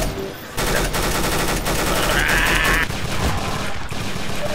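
Video game gunfire sounds in a sustained, loud automatic barrage that starts after a brief lull and continues steadily, with shots packed tightly together at close range.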